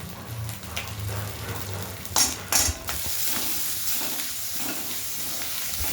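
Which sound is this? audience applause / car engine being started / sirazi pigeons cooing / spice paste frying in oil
spice paste frying in oil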